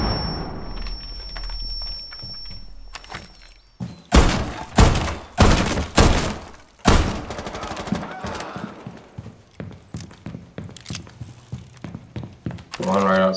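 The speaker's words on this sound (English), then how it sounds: "Impact frag" Impact frag grenade detonating in the tactical shooter Rainbow Six Siege, Coastline map, a series of sharp loud thuds and bursts in quick succession amid game noise, with a voice speaking.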